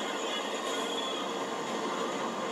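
Train rolling past in Grand Theft Auto story mode, a steady, loud broadband rumble and rattle of rail cars that holds evenly throughout with faint wheel squeal, no voices.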